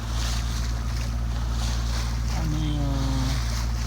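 A sailboat under genoa motors in light wind off Chalki in the Dodecanese: a steady, close low engine drone runs throughout beneath a constant rush of wind and water, with a short spoken voice and a rising tone near the end.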